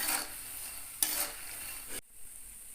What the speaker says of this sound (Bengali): বড়িগুলোকে কিন্তু একটু লাল করে ভাজতে হবে গ্যাসের ফ্লেমটাকে মিডিয়ামে রেখে